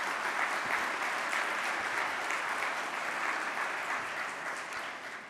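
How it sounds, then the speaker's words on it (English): Dense, sustained applause from an audience at a national civics bee championship, a full continuous wash of clapping that tapers slightly at the end. "Round of applause"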